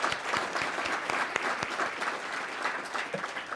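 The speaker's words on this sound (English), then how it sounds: "Let's give the City Club a round of applause." A City Club audience gives a round of applause, a dense, steady patter of many hands clapping close by for a few seconds without a break.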